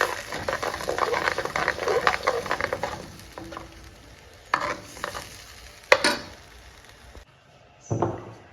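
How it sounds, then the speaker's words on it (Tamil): Chutney bubbles and sizzles in a pan with scraping stirs, fading toward the end with a few sharper clatters and a brief quiet gap. "கொஞ்ச நேரம் நல்லா கொதிக்க விட்டு"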